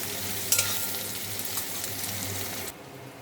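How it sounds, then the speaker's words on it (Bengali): Peeled potatoes with a little turmeric sizzle steadily in a hot pan, a close, even hiss with a few sharper crackles and stirring noises, then the sizzle cuts away near the end. "এখন আমি আলুগুলোকে ভেজে নেব।"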